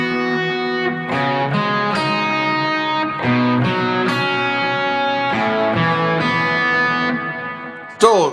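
Electric guitar lead line played over chord shapes in a worship style, left without resolving, with sustained melodic notes and shifting pitches under light distortion and effects, steady and close, ending on a sharp attack.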